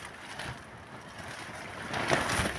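Strong wind buffets a camper tent at night, a steady broadband roar with flapping and shaking that swells louder near the end, close to the microphone with no talking.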